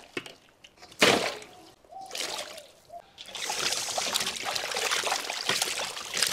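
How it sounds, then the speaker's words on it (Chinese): Blanched pig trotters are rinsed under running water, with trickling and splashing up close, rising and falling in bursts and then a longer steady wash. "焯好水捞出来洗一下"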